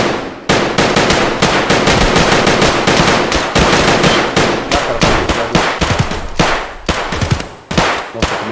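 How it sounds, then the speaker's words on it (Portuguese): Rapid automatic gunfire in a video game rattles in long, loud bursts with a brief pause near the start, dense and close. "Ou é o Killa, porque eu dei muito tiro nesse cara, velho."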